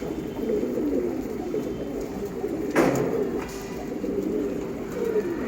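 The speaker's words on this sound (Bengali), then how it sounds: "কিছু গুড়া কবুতর আছে" Young pigeons in a loft murmur in soft, low cooing that runs steadily through the stretch and stays faint against the room's background hiss, with a brief brighter rustle partway through.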